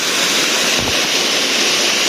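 A waterfall near a mountain summit in northern Laos produces a loud, constant broadband rush of water, with light wind buffeting on the microphone and no voices.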